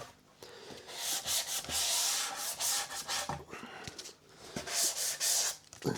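Hand sanding of a Flying V guitar body in preparation for finishing, heard as close, steady rubbing strokes of abrasive paper across wood in uneven repeated passes with brief pauses between them.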